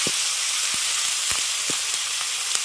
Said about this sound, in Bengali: ওই তেলের মধ্যেই দিয়ে দিচ্ছেন পেঁয়াজ আদা রসুন বাটা